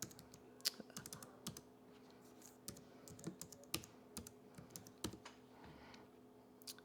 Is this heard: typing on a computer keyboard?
yes